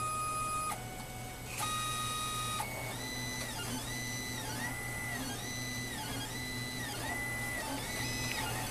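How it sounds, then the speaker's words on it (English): A SmartWrap 3D printer homes its axes and probes the bed, giving a steady motor hum with a few stepped whines, then repeated rising and falling stepper tones as the probe moves point to point. "The three-dimensional print begins on the SmartWrap 3D printer."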